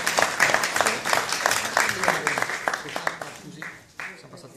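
An audience at a business talk breaks into brief applause, with distinct individual claps close by that thin out toward the end, and a voice is heard partway through.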